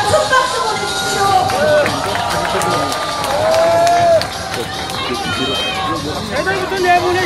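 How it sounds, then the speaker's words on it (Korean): Rally crowd at a Liberty Korea Party outdoor launch event, cheering and chattering in a dense, continuous roar with scattered clapping, while amplified speech and music rise over the noise. "큰 박수 보내주시죠."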